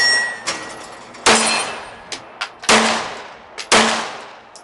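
A budget pistol fires at an outdoor shooting range, with a string of sharp, echoing reports, some louder and some fainter, spaced irregularly at roughly half-second to one-second gaps.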